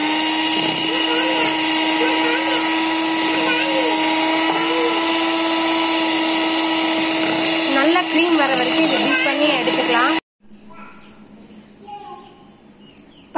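An electric beater whirs steadily as it whips butter and sugar into cream for a Black Forest birthday cake. The loud, even motor drone runs with a voice talking over it, then cuts off abruptly near the end.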